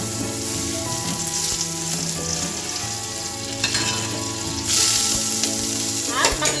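Butter sizzles and fries steadily on a hot cast-iron sizzling plate for chicken sisig, a continuous close crackling hiss with a brief louder burst of spattering near the end, no voices.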